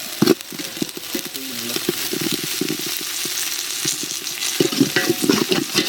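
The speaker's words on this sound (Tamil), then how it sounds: "அடுத்து தயிர் ஆட் பண்ணி விட்டுருவோம்" Yogurt goes into a village-style guinea fowl biryani frying in a pot, with steady sizzling and crackling under scraping, stirring strokes that continue throughout, fairly close and moderately loud.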